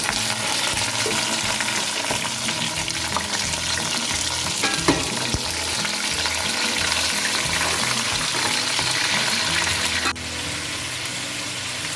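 Chicken frying in hot oil with cloves, star anise and mace, a steady close sizzle with stirring clatter throughout, the crackle easing slightly near the end.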